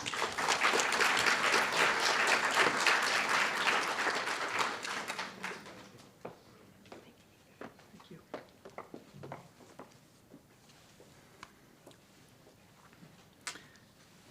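A law school audience at a moot court finals event applauds steadily to welcome the dean, the clapping loud and dense for about five seconds, then thinning into scattered claps and light taps.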